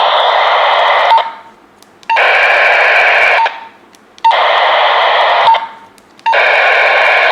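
A Wouxun handheld radio receiver with its squelch opened gives loud bursts of steady static hiss, four in a row, each lasting about a second and separated by short quiet gaps, with no voices.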